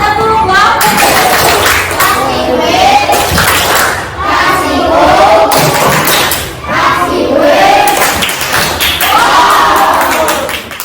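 Classroom of pupils performing a rhythmic 'bomb clap' routine, loud repeated clapping with thumps and shouted calls in unison, spread across several seconds in waves.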